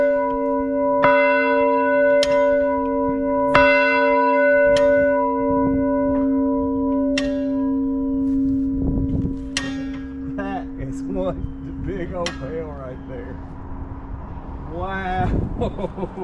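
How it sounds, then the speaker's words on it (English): A big bell rings in an old gold mining town, several loud strikes with long humming decay that overlap at first, then fade as voices talk over the tail. "The folks wanted to hear that bell, and I was able to do it."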